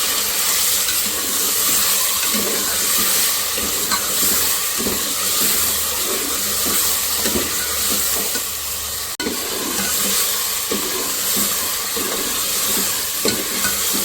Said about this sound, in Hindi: इसके साथ में 1 टेबल स्पून भर के डालूँगी लहसुन अदरक का पेस्ट और इसको हम भून लेंगे गोश्त को।